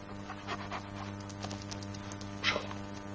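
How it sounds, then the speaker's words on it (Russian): Dogs pant in quick, soft bursts at close range over a steady low hum, with a brief louder rustle near the end and no talking. "Убери собак."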